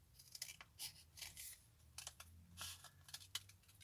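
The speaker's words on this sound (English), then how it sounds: "I'm going to get my scissors, and I'm going to aim straight across" Scissors cutting straight across folded paper for a 3D Christmas star, heard as a series of short, crisp snips with light paper rustle between them, close and quiet, and no talking.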